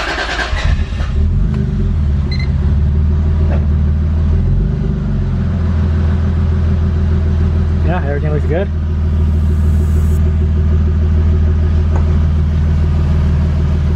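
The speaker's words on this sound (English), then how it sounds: "Alright, so now turning on the car." A JDM Toyota Supra with a 2JZGTE engine starts with a loud crank and settles into a steady, rumbling idle close by, as someone talks briefly over it.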